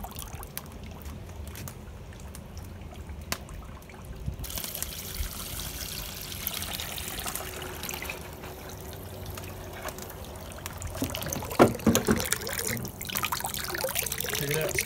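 Hot water and steam pour and trickle in a steady, moderately loud outdoor stream. A faint background murmur runs underneath and grows a little busier toward the end.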